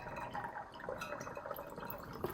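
Blue-tinted blueberry coffee syrup pours into a container in a steady, faint liquid trickle with small drips and gurgles, close up and continuous, with no voices.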